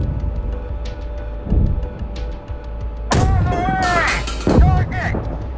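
Tank cannon and gunfire in Gunner Heat PC, a heavy boom landing mid-clip followed by loud rumbling blasts and crackle, with low engine rumble and scattered thuds before it.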